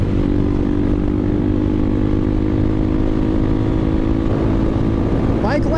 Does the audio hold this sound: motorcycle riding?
yes